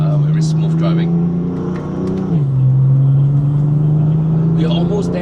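A 600 hp BMW M4 engine drones loudly from inside the cabin on a mountain road, a steady high hum that briefly drops in pitch and then climbs again, with people talking over it.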